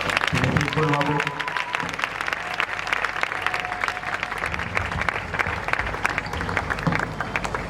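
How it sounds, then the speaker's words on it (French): A church congregation applauds and cheers loudly in praise, with dense continuous clapping and shouting voices throughout, steady and close, with no letup. "Nous acclamons le Seigneur très fort"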